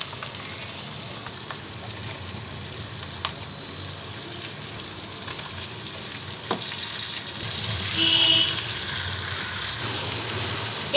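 Beef pieces fry in a spice masala that has been cooked down until the oil separates, making a steady, dense sizzle throughout with a slight swell near the end and no voices.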